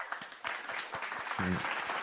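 Applause sound effect played during a live show, a crowd-style clapping burst with a brief voice and a short tonal blip mixed in, moderately loud.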